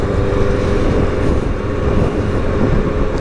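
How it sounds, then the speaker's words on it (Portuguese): A motorcycle rides along a road, its engine giving a steady, loud broadband roar with no clear rise or fade over a few seconds. "Olha ela aí. Bonita moto, viu?"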